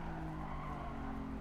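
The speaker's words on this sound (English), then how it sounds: "I'm going to start braking now" A Lamborghini in the Gran Turismo Sport racing game brakes hard into a turn during a Lamborghini Cup race, its tires squealing and skidding continuously over the engine drone.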